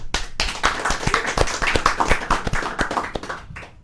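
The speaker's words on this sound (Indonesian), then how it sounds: "Tepuk tangan." An audience claps for Indonesian MMA fighter Jeka Saragih, the first Indonesian in the UFC. The claps are loud, close and distinct, beating in a quick, uneven rhythm for several seconds before trailing off.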